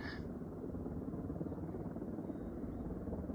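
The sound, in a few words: helicopter flying overhead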